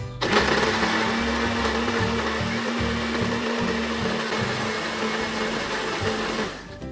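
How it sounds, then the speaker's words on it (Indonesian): An electric blender grinds a spice paste with candlenuts and water for fish floss, a loud, continuous whirring motor that runs steadily for several seconds before winding down. "Tambahkan air secukupnya untuk mempermudah kerja blender."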